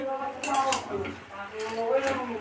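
Boiled banana stem being stirred in a metal pot, with light scraping and clinking strokes in two short bursts under a talking voice.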